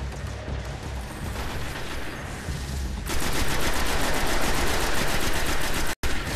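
Gunfire in the Destiny video game: a noisy stretch gives way to loud, rapid automatic bursts, a fast regular rattle of shots that carries to the end.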